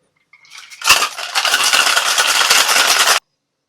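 Sidecar cocktail being shaken hard with ice in a shaker, a dense continuous rattle of ice against metal lasting a few seconds, loud and close, then stopping abruptly.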